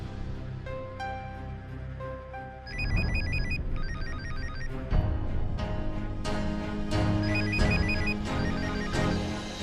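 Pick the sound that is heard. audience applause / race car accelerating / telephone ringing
telephone ringing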